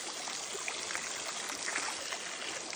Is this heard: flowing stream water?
yes